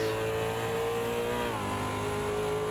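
Super V8 race cars at Bathurst in a PC racing game, a loud continuous engine drone at high revs that dips in pitch midway as the car brakes or shifts, close and steady throughout.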